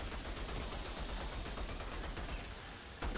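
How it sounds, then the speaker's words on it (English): Sustained rapid gunfire in the Outriders video game during a boss fight, a dense continuous barrage of shots that stays loud throughout before briefly dipping near the end. "Let's gun these guys down."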